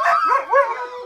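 Greenland sled dogs, working animals kept by a local hunter and teacher, bark and howl up close in a short, loud burst of overlapping yelping and wavering cries.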